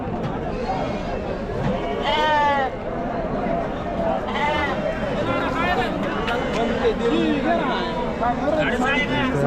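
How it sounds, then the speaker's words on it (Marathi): Sheep bleat repeatedly at the crowded Chakan goat and sheep market in Maharashtra, with overlapping wavering cries near and farther off over a steady babble of people talking. "मेंढे आहेत बघा मित्रांनो"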